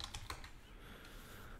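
Quiet keystrokes on a computer keyboard, a short burst of several quick clicks at the start and then a softer tap near the end, with no talking.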